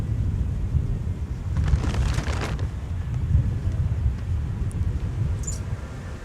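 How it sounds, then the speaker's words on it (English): A tarp blows away in strong wind at Minneapolis–St Paul airport: a steady low wind rumble with a brief, loud rustling flutter near the middle and no voices. "what you heard was the tarp blowing away"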